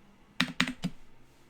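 Three quick keystrokes on a computer keyboard, crisp clacks close to the microphone, the first two in fast succession and a third slightly softer, then quiet.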